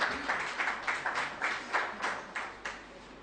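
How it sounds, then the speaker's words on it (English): An audience claps sparsely in short, uneven bursts after a call to applaud a team during an agency report presentation, the claps moderately distant and fading between flurries. "Clap for them."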